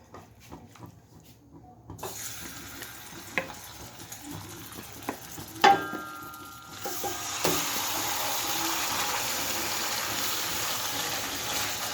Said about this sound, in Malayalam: അപ്പം നമുക്ക് ഇതിലേക്ക് ചിക്കൻ ഇട്ട് കൊടുക്കാം.